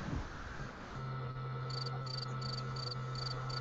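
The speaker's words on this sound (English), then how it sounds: "Crickets." Cricket sound effect chirping in steady repeated pulses over a constant low hum and background noise, fairly close and clear.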